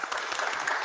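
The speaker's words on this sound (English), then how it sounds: "Please give him a clap." An audience at a Thursday church service claps, a brief burst of dense, even applause from the congregation welcoming a helper.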